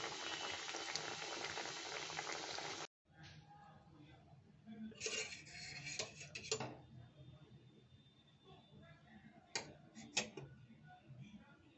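Egg kabiraji cutlets deep-frying in hot oil, a steady bubbling boil that cuts out briefly, then returns quieter with scattered clicks and louder sputtering bursts.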